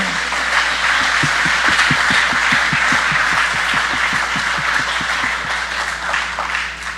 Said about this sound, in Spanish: Ah, eso merece un aplauso.